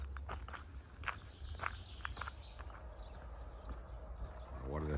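Guardia Civil horses walk along the Camino Primitivo, their hooves giving a series of sharp, irregular clip-clops close by. Faint voices and a brief tonal call near the end sit under the hoof strikes.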